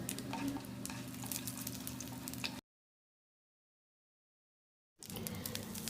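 Steady sizzling of urad dal frying in hot oil while being stirred, broken by a couple of seconds of complete silence before the frying resumes.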